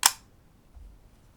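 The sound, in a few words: rangefinder camera shutter button pressed, shutter opening on B setting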